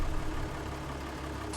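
A Valtra tractor engine idles in Farming Simulator 19, giving a steady low rumble that holds an even level for about a second and a half with no one speaking.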